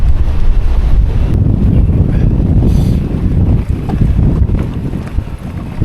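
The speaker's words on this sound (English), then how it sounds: "Can't get out of the bloody wind." Strong wind roars across open moorland on the Widdop loop, buffeting the microphone with a loud, continuous rumble that barely lets up.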